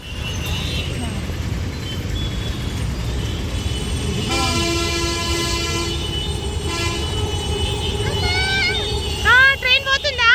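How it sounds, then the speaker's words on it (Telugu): A train passes near the Uppal skywalk, its rumble joined midway by a long sustained horn, while nearby voices, including a child's, sound close by at the end. "ట్రైన్ పోతుందా?"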